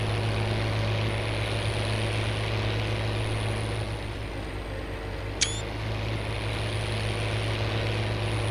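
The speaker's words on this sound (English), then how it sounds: "This tractor doesn't seem to be powerful enough," A tractor engine strains as it pulls a sunflower planter, giving a loud, steady, continuous drone with one brief high chirp partway through and no talk.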